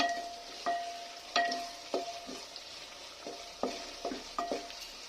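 Chicken masala for handi chicken stirred in hot oil with chopped onions in a pan, a steady sizzle broken by repeated sharp scraping strokes of the spoon, close and clear with no talking.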